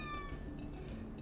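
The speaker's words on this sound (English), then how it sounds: "My kitty's over here. It's trying to say hi." A pet cat named Luna gives a drawn-out meow close by. The call is clear and steady and sits over a constant background hum of game music.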